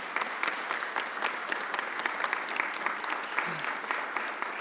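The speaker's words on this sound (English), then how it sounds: "Give Mike a round of applause." Sustained applause from an audience at a mayor's press conference, dense steady clapping filling the room at moderate volume, with a brief voice near the end.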